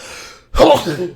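A man sneezes abruptly partway through a basketball podcast conversation, the burst loud and close after a brief near-silent pause, with talk and room sound on either side of it.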